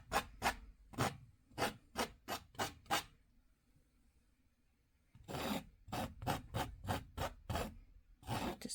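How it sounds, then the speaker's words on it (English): A painting knife scraping through paint on a canvas, in quick rhythmic rasping strokes that come in two bursts of several close scrapes each, separated by a couple of seconds of quiet. "I'll scrape through with the knife here"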